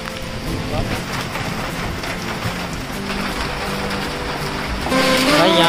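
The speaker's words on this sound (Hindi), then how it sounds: "यहाँ पर देख रहे हो ओले पड़ना चालू हो गए।" Heavy rain mixed with falling hail during a storm at an outdoor stop, a dense loud patter and clatter, with a voice talking over it and a sharper surge near the end.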